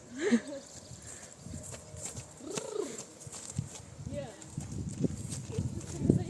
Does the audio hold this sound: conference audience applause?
no